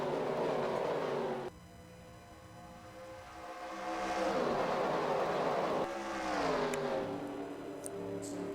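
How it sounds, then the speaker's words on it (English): Stock cars race at Talladega in a NASCAR racing video game. The engines make a continuous, loud roar with rising and falling pitch sweeps as the pack shifts, and no voices are heard. "We are green flag racing for 30 laps of action."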